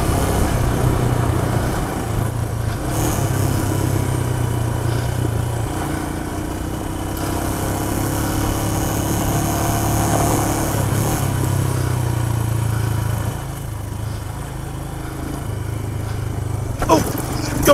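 A Royal Enfield Himalayan motorcycle powers through soft sand patches in third gear. Its engine drones steadily up close, with a rider's voice now and then over the hum.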